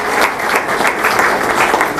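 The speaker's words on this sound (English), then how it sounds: "clap for our teachers" Loud, dense clapping from an audience applauding teachers at a ceremony releasing the KCPE 2018 national exam results, with a continuous roar of many hands close by.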